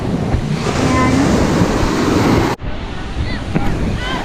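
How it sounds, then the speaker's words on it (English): Ocean surf at the beach in Ocean City, Maryland, heard as a loud, continuous wash of waves under heavy wind buffeting on the microphone. There is a brief break partway through before the roar resumes. "Look at the ocean, guys."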